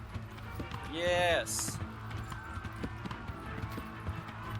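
Hooves of a galloping horse in the video game Kingdom Come: Deliverance, a steady rapid clip-clop running throughout under a person's exclaimed voice, with a brief horse whinny early on.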